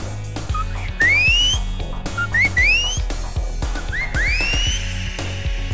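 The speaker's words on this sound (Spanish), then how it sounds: "Ya saben que vengo chiflando y la gente sabe, saben que voy llegando." A man whistles a loud calling signal in three rising, sliding phrases, each swooping upward, over a pulsing rhythmic background.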